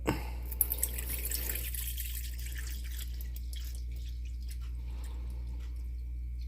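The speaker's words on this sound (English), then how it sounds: "add some water to it." Water poured into an empty Disney Snow White snow globe, with a short splashing trickle at the start that gives way to faint drips and a quiet low hum.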